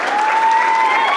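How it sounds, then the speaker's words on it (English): Members of an audience at a franchise convention applaud steadily for a moment, with a thin sustained tone running beneath the clapping and no speech. "Give them a round of applause."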